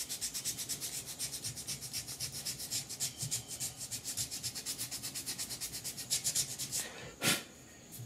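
Steady rhythmic rasping strokes of sandpaper rubbing a sculpture surface, close up and continuous, with a brief sharper scrape near the end.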